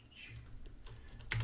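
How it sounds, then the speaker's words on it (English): Keys on a computer keyboard are tapped in a quick, uneven run of soft clicks that ends in a louder burst of strokes, close and quiet, with no voices. "I hold down the shift key on my keyboard in order to draw a straight arrow"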